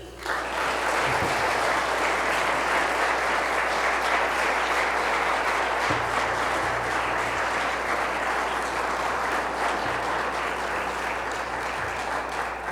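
An audience at a university last lecture applauds to welcome the speaker, sustained loud clapping that fills the room for several seconds without letup.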